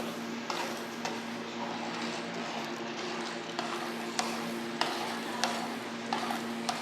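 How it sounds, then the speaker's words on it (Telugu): Roasted semolina tipped into boiling water in a pot and stirred for upma, a steady bubbling hiss with soft scraping strokes and a few sharp clicks of the spoon against the pot. "ఇప్పుడు రవ్వ వేస్తారు."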